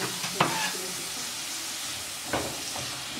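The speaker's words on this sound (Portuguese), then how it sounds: "Dá uma mexadinha na cebola também." Onion frying in a pan while being stirred, a loud constant hiss of sizzling with two brief scraping stirs standing out, close and without voices.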